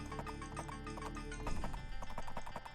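Brief clip-clop of a horse's hooves in the Age of Empires strategy game, quick repeated taps mixed under game music and ambience, briefly louder midway.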